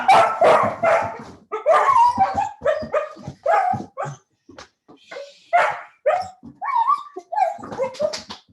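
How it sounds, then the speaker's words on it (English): Several dogs bark and yip close by indoors, a dense burst of overlapping barks that thins into scattered yelps and whimpers. "Let me see if I can rid myself of these dogs for a second."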